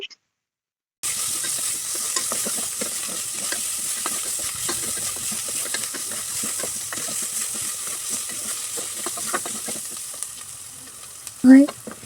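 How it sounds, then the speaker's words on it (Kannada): Chopped onion frying in hot oil in a pan as the raw smell cooks off, a close, continuous sizzle with the crackle of stirring and a brief clink near the end, no talk. "ಎಣ್ಣೆಯಲ್ಲಿ ಹಸಿ ವಾಸನೆ ಹೋಗೋವರೆಗೂ ಫ್ರೈ ಮಾಡ್ಕೊಳ್ತೀನಿ"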